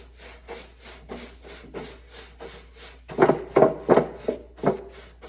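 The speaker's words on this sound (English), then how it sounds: "I'm going to go ahead and start off with some clear wax first" Clear wax is rubbed onto painted dollar-store decor, giving a series of soft, rhythmic scuffing strokes. They start faint and grow louder and firmer in the second half, with no talking.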